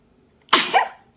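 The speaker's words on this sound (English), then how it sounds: "excuse me for sneezing on camera" A single sharp sneeze bursts out after a moment of quiet, loud and close, with a brief breathy tail and a faint sound starting right at the end.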